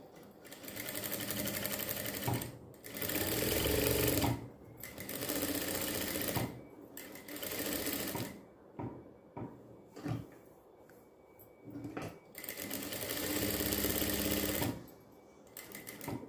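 Sewing machine stitching a quarter-inch seam on a blouse back neck, close and clear, in several bursts of rapid whirring separated by short pauses and small stop-start runs.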